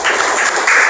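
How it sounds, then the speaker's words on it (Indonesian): Short burst of classroom applause, students clapping together in a steady, dense patter that stays loud for about a second. "Oke, tepuk tangan"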